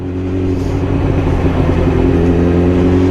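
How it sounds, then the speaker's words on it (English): A Yamaha R6 5EB motorbike idling up close with a steady, loud engine rumble; the faint clicking from its lower left side cannot be picked out under the engine. "I can hear a little clickety clack clack click clack click click clack all coming from this sort of like left lower"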